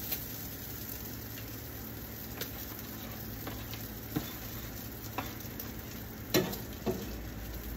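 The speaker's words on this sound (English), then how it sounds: "I'm going to throw my bacon on it" Bacon strips sizzle on a Blackstone griddle outdoors at a barn, a faint steady crackle with a few sharp pops and ticks near the end.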